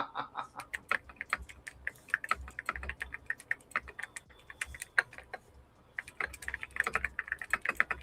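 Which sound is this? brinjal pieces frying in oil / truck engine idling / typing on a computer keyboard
typing on a computer keyboard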